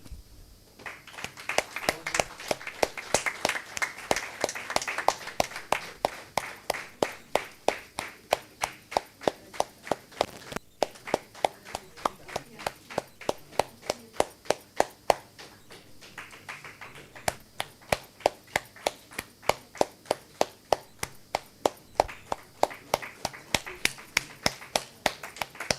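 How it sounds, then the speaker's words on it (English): Alumni meet audience applauding, heard as a long run of sharp, evenly spaced claps that sound like one or a few pairs of hands beating a steady rhythm, with brief pauses and talk over a hall. "Everyone give a big round of applause."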